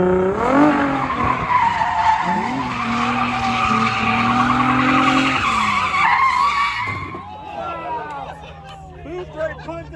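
A drift car in the final round of a drift competition at NOLA skids with a long, loud tire squeal that rises and wavers, then a roaring engine over crowd noise as the slide ends.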